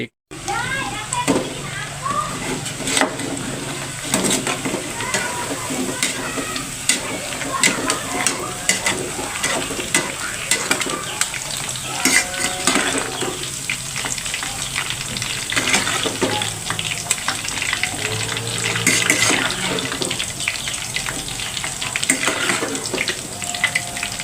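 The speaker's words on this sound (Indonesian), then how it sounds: "yang pertama kita goreng tempenya dulu" Steady sizzling of tempeh frying in hot oil, crackling continuously throughout, with occasional clinks and background noise mixed in.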